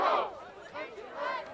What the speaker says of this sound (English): We got battle of the cheer squads down here